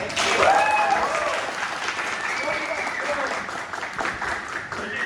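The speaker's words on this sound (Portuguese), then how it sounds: "Palmas para Carlos também." Audience applause for Carlos at a hackathon pitch event, steady clapping from a crowd at moderate level for about five seconds, with some voices mixed in underneath.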